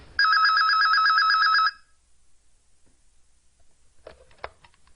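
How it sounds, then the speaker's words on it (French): A telephone bell rings in a quick trilling burst for about a second and a half, loud and close, then stops; faint clicks and handling noises follow. "Allô, Marie?"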